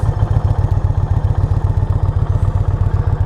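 A 2020 Indian Challenger motorcycle being ridden in second gear gives a loud, close, rapidly pulsing engine rumble with an even throbbing rhythm throughout.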